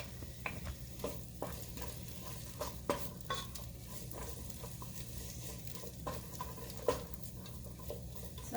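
Garlic sizzles quietly in a pan as the base for Filipino chicken macaroni soup (sopas), a soft continuous fry with occasional spoon taps and stirring clinks, close but low in level.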